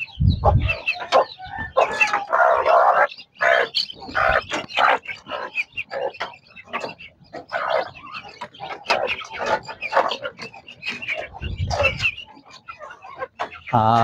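Chicks cheep and peck at their feed outdoors on a drizzly day, with irregular high chirps scattered through the clip and occasional low bumps and handling noises close by.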